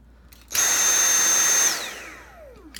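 A Dyson V7 Motorhead cordless vacuum motor at max speed, a loud steady whirring roar with a piercing high-pitched whine for about a second, then spinning down with a falling tone.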